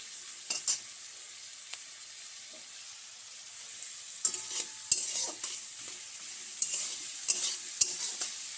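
Onions frying in oil in a pan for a chicken dish, a faint steady sizzle with scattered stirring clicks and scrapes that grow more frequent toward the end.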